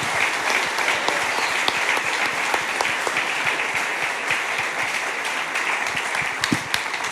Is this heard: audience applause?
yes